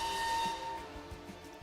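Steam train whistle from a theme park ride in the game Planet Coaster 2: a sustained, breathy whistle tone with steady hiss, loudest at the start and thinning out over a second and a half, no talk.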